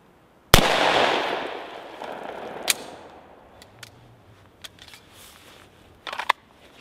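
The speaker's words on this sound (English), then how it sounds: "this is the jug that I shot the full metal jacket 357 SIG round out of my SIG 229 Legion series" A full metal jacket 357 SIG round fired from a SIG 229 Legion into a water jug outdoors: one sharp, loud shot, a decaying echo, then scattered faint clicks and small knocks.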